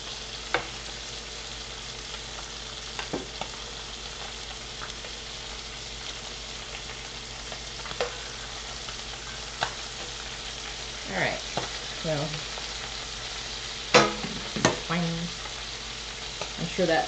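Soy sauce chicken drumsticks fry in a pan with a steady low sizzle, joined by occasional sharp pops and clatters of stirring or turning, fairly quiet and with no talk.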